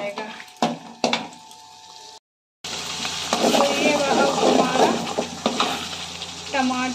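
Cooked tomato paste added to frying masala in a pan for a chole curry: a loud, steady sizzle with scraping stirring sounds, following a few earlier clinks and a brief silence.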